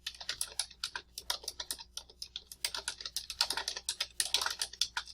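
Fast typing on a computer keyboard, a close, crisp patter of irregular key clicks with brief pauses between bursts, heard alone without speech.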